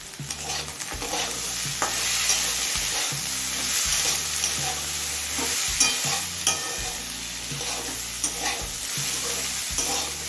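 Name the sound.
chopped onion frying with potatoes in a pan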